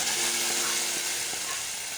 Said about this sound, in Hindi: और अब हम लगा लेंगे इस निहारी को तड़का।